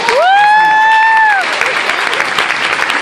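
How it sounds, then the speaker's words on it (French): A seated audience at a hypnotist show in a university venue breaks into applause and cheers, loud and close, after a long whooping shout at the start. "On applaudit Jesse."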